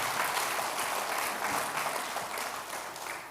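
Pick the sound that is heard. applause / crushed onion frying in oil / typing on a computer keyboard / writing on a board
applause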